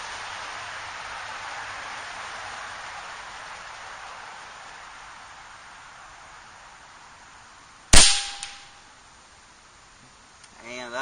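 A single sharp, loud shot from an Air Venturi Avenger .25 air rifle with a Pro Magnum slug cracks out after several seconds of steady hiss, followed by a brief ringing decay.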